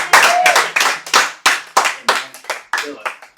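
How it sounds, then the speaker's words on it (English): A comedy club audience at a live show starts a slow clap for host Brian Bennett, a series of loud, separate, evenly paced group claps that speed up slightly, with voices heard faintly in between. "Get a slow clap going for our main man, Brian Bennett!"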